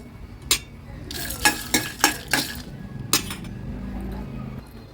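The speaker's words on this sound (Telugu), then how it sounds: "వేగుతూ ఉన్నప్పుడు ఒక స్పూన్ ధనియాలు వేసుకోండి" Whole spices, cloves, peppercorns, cardamom and coriander seeds, frying in a pan for an Andhra-style brinjal curry, with a few sharp metallic clinks and scrapes of a spoon over a soft steady sizzle.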